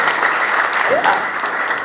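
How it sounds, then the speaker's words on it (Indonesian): A church congregation applauds in a dense, steady wash of many hands clapping, loud and sustained for the whole moment. "Beri tepuk tangan yang terbaik buat Tuhan Yesus Kristus."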